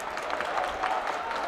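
A stadium crowd applauds at a Turkish third-division football match between Kırıkkalegücü and Malatya Arguvan Spor as a substituted player leaves the pitch. The clapping is a steady, continuous wash that sounds distant and fills the whole moment.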